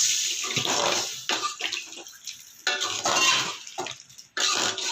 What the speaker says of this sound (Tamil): இப்போ தண்ணி ஊற்றி வேக வச்சுக்கலாம்